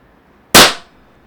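A single sharp shot from a Tiberius T8.1 high-power pistol firing 4 g rubber balls during chronograph testing, one loud close crack with a quick decaying tail, no talk.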